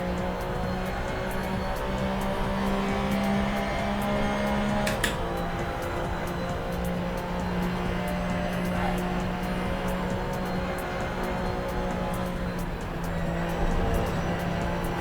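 A car engine drones steadily in Assetto Corsa while the driver shifts gears erratically, the pitch holding then dropping and climbing again after a sharp break midway, under soft background music.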